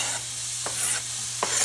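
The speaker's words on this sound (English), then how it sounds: "and you're gonna saute it" Onion sautes in a deep preheated pan, giving a continuous hiss of frying with two or three brief scrapes from stirring, close and moderately loud.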